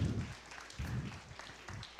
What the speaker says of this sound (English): why don't we give her a huge round of applause